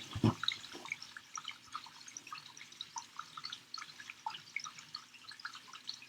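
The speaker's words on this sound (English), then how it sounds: "You're leaking, but like I said, the toilet, it's the jiggle thing." Water from a leaking toilet drips irregularly, a series of faint, close, delicate plinks scattered over a quiet background, with one louder knock at the start.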